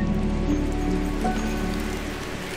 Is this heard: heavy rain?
yes